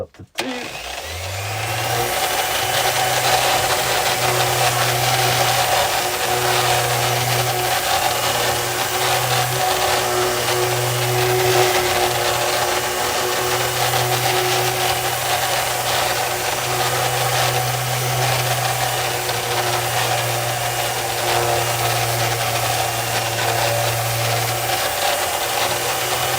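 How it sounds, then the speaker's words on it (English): A power sander works steadily over an epoxy and wood side table, a continuous close buzzing drone with a low hum that wavers slightly as the pad moves across the surface, running alone for nearly the whole stretch. "Right, we just need to sand the whole thing now."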